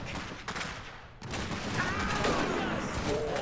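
Gunfire in the strategy game Iron Harvest during a skirmish battle: a dense, continuous crackle of shots that drops briefly, then surges back louder and keeps rattling, with faint voices mixed underneath.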